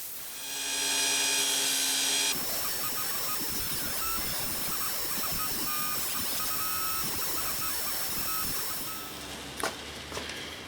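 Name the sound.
polishing wheel on BMW Airhead motorcycle part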